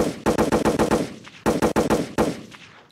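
Rapid bursts of loud gunfire, several fast volleys in a row separated by brief pauses, close and harsh with no voices.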